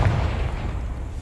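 A Confringo blasting spell explodes in Hogwarts Legacy, giving a deep booming burst that swells at the start and then trails off into a low rumble, with no speech over it.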